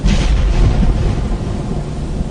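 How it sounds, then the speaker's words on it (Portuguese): Heavy rolling thunder in a storm with rain, loud and continuous, a deep rumble that swells at the start and slowly fades over a couple of seconds. "mandou trovões, raios e chuva de pedra sobre o país."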